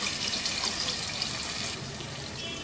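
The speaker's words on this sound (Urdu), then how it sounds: "1 کپ پانی کا شامل کر دینا ہے." Water pours steadily into a pot of chicken curry with tomatoes, a continuous hissing splash lasting the whole few seconds, with no talking.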